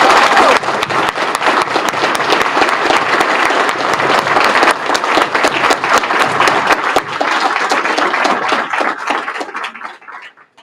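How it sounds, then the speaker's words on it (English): A large audience claps steadily for about ten seconds, a dense wash of applause that thins and fades out at the end. "Can we give her a round of applause?"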